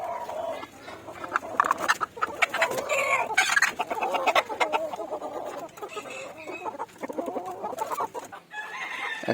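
Several native chickens cluck and squawk loudly and continuously near the listener as they are shifted from one cage into another, with agitated bursts throughout.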